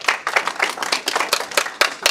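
An audience at a real estate auction competition claps in a quick, uneven burst of many hands, close and lively, lasting about two seconds with no talk over it.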